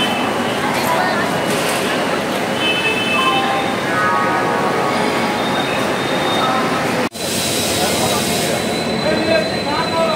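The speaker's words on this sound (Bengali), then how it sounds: "রাত 1:15 নাগাদ কারশেড থেকে খালি রেক এসে পৌঁছলো 21 নম্বর প্ল্যাটফর্মে" An empty LHB rake for the Howrah–Mumbai Mail rolls along a platform at Howrah station, a loud continuous rumble with metallic squeals and clatter, briefly cut off near the end, while a voice talks over it.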